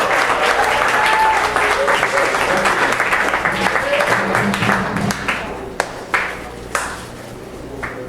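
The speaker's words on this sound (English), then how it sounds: "give yourself a good round of applause" Audience at a CodeDay Bay Area hackathon opening ceremony applauds loudly and continuously, then the clapping thins out into a few scattered, sharp individual claps toward the end.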